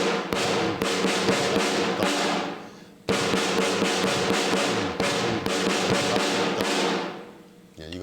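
A drum kit plays a beginner drum fill twice in a row, a dense run of rapid snare and tom strokes with crashes, close and fairly loud with no talking.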